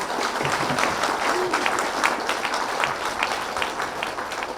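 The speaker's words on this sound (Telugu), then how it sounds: "ఈ కైలాష్పురికి గట్టిగా చప్పట్లు కొట్టుకుందాం." Audience applause at a spiritual talk, dense loud clapping from a crowd throughout, with a voice faintly mixed in.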